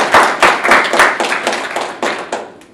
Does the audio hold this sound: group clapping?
yes